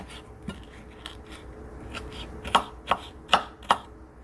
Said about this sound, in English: I'm just gonna chop these up finely